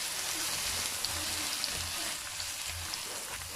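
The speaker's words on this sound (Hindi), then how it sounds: "और अब मैं इसको सौते करूंगी तकरीबन 5 मिनट तक मीडियम फ्लेम पर" Green onion whites and chopped onion sauté in a pan over a medium flame, giving off a steady, dense sizzle that continues without pause, close and moderately loud.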